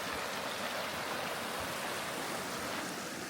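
A river rushes steadily beside a mountain campsite on an autumn day, a continuous broadband wash of flowing water that stays even and fairly close throughout, with no voices.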